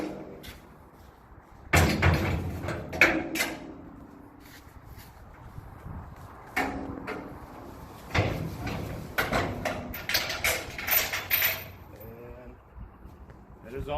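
A fabricated barn door swinging on its hinges, with a string of knocks, bumps and creaking thuds at close range, some people talking now and then in the background.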